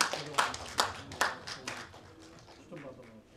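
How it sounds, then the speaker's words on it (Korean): At an award ceremony for a national folk-song (minyo) competition, hands clap in a quick, evenly spaced rhythm, a handful of sharp claps that soften and thin out toward the end, with faint talk underneath. "박수 부탁드리겠습니다. 축하드립니다."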